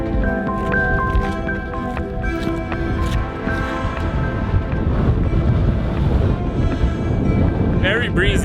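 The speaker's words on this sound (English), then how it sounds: "Very breezy tonight." Evening breeze at sunset on Ryan Mountain in Joshua Tree National Park, in the Mojave Desert: constant rough, buffeting wind roars across the microphone throughout, with faint talking underneath.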